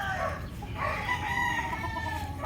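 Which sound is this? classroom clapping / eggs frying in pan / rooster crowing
rooster crowing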